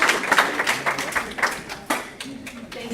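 Scattered clapping from a smallish audience thanks presenters at the close of a conference session, uneven and fading in patches, with faint voices over it.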